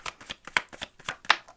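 Tarot cards being shuffled by hand in a quick run of soft riffling flicks and slaps, close and fairly quiet, with no voices over them.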